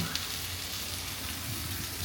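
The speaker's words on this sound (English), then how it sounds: "stir frying your beef rice and blueberries" Beef, rice and blueberries stir frying in a pan give a steady, close hiss and sizzle with a faint tick or two, quiet and unbroken with no talk.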